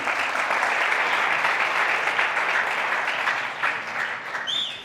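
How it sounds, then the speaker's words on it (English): Steady, dense audience applause as a guest comes onto a stage, sustained wash of many hands clapping at even loudness, easing slightly near the end. "Can you give him a round of applause, please?"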